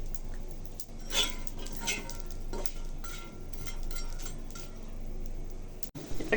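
Onions sizzle in a generous amount of oil in a pan for a Loitta dried fish bhuna, with a soft continuous fry under repeated scrapes and clinks of a stirring spoon against the pan.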